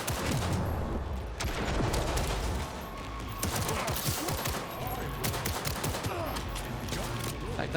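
Pistol gunfire in the video game Cyberpunk 2077, a rapid series of sharp shots layered over dense, noisy combat sound, continuous and loud with no clear speech.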